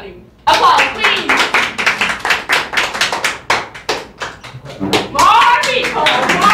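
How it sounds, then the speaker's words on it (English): A crowd applauds with dense, sustained clapping that swells again near the end, with some voices mixed in. "Applause, please!"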